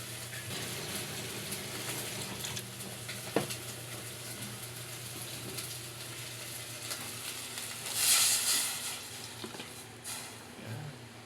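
Water hitting a hot frying pan sets off a steady, close sizzle with a louder hissing burst near the end, heard alone with no talking.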